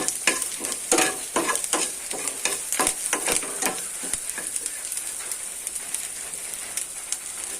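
Curry leaves, onions and cumin fry in a pan with a close, hissing sizzle, broken by a rhythmic series of stirring scrapes and clicks.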